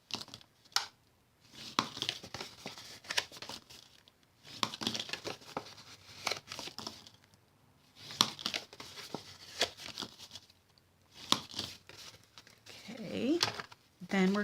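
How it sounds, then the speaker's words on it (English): Card stock for a Stampin' Up! Halloween project is folded and burnished, crisp crinkling and rubbing scrapes coming in repeated bursts up close with pauses between strokes. "we're going to score, or not score, but fold and burnish on both pieces here"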